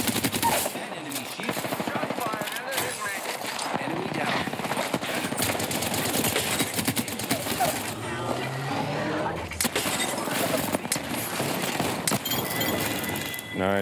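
Dense automatic gunfire and rapid shots from an Apex Legends match crackle almost nonstop at full loudness, with a voice talking intermittently over the din.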